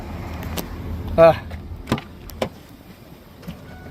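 A Mercedes car's automatic door motor whirs briefly, followed by a few soft clicks and knocks from the door, while people talk nearby.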